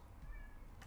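A house cat meows faintly indoors behind a closed balcony door, two brief thin calls with a quiet pause between, set against low room noise.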